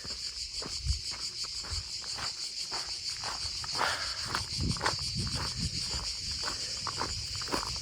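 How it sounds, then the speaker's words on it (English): Cicadas keep up a constant, high shrill buzz in the Corfu countryside, steady throughout under soft footsteps and light rustling nearby. "you can probably hear in the background those little cricket fellas again. They're called cicadas"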